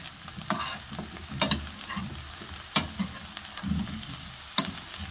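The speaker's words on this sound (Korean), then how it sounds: "식용유에다가 볶다가 간장을 넣어." Eggplant stir-frying in cooking oil, with a continuous sizzle and repeated sharp scrapes of a utensil against the pan at irregular intervals, close and without speech.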